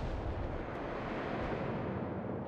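Cannon artillery fire in the real-time strategy war game WWA RTS, heard as a continuous dense rumble of overlapping blasts at steady volume with no clear gaps between shots.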